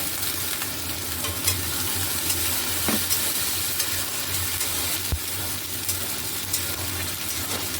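Masala for chicken egg tadka sizzles steadily in a pan after a little water is added, with continuous stirring and scraping close by and no voices.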